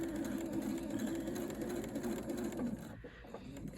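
A sewing machine runs steadily while stitching fabric around a tight curve for turned-edge quilt appliqué, a close, even mechanical hum with rapid needle ticking that eases slightly near the end.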